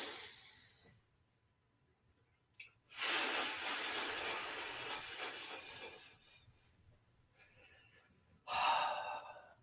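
Deep breaths during a shiatsu breathing exercise: a quiet pause, then a long, loud inhale that slowly tapers off, followed by a second strong breath near the end, all close and without speech.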